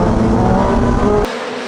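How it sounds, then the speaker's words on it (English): A Triumph Street Triple motorcycle engine revs loud and close with a dense, gritty roar, holding steady for over a second before cutting off abruptly. "An engine that whistles and growls and barks at you"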